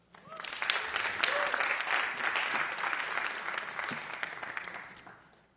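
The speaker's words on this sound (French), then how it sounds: "si on peut l'applaudir" A church congregation applauds the worship minister with sustained, dense clapping that swells quickly, stays full for several seconds and then tapers off toward the end, a few voices faintly audible underneath.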